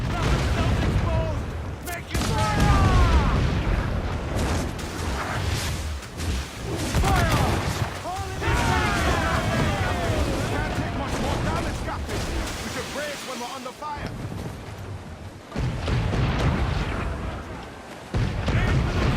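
Ship cannons firing broadside at a fort in Assassin's Creed 4 Black Flag, heavy booming blasts and crashes running continuously under game noise and someone talking throughout.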